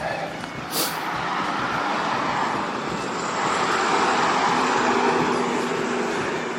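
Road traffic roars steadily during an outdoor walk near a pedestrian crossing, a continuous broadband wash of passing vehicles that swells slightly midway without letting up.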